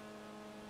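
A steady, droning car engine hum in the video game GTA V at constant pitch, loud and close, with no talking.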